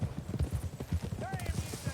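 Horses clip-clop in Red Dead Redemption 2, a steady rhythmic patter of hooves with someone talking over them and a short whistle-like tone midway.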